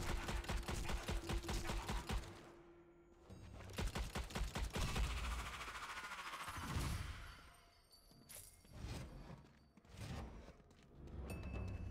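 Gunfire shooting zombies in the video game Strange Brigade on Nintendo Switch, rapid bursts of loud automatic shots in quick rhythmic volleys, broken by short pauses and heavier impacts.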